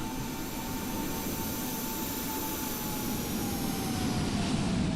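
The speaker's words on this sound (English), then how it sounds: "There's a 737 pretending to be an F-18" Steady jet engine roar from a Boeing 737 in Microsoft Flight Simulator, a continuous broadband rush with a faint steady whine, holding even and fairly loud throughout with no talk.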